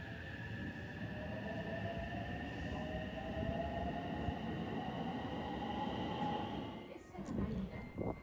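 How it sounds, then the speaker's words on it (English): A single-carriage Kakogawa Line train at Kakogawa station: a steady, loud rumble with a sustained whining tone gliding slowly upward, then a brief clank and hiss near the end, with faint voices in the background. "And here is the Kakogawa line train."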